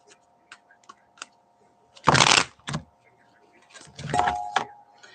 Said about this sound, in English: I don't even need to shuffle the cards, but I will.